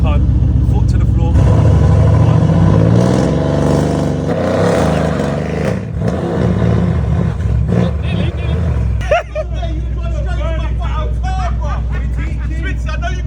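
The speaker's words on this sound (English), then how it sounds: "That was your first burnout" A car doing its first burnout, brake held and throttle floored, roars loudly up close with rising revs and tyre noise, then settles into a heavy, sustained engine drone while voices talk and shout over it.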